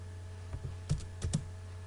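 A few key presses on a computer keyboard during AutoCAD drafting, a letter key and then Enter: sparse, close clicks in a short cluster over a low steady hum.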